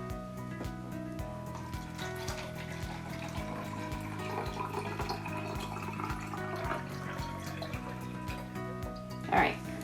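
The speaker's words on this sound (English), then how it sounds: "we're gonna fill this up about 3/4 of the way" Tap water pours steadily into a container being filled about three quarters full as the base for homemade hand soap, a continuous trickling splash running under talk throughout.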